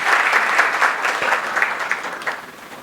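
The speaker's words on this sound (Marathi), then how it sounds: "एकदा जोरदार टाळ्या झाल्या पाहिजेत अनिता मॅडमसाठी." An audience at a Marathi poetry event applauds for Anita madam, a dense burst of clapping that stays loud for a moment and then slowly thins out.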